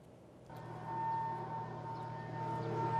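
North Korean propaganda loudspeaker broadcast aimed at South Korean border residents, a steady droning siren-like machine tone with a sustained hum that starts abruptly and holds, fairly loud and unbroken.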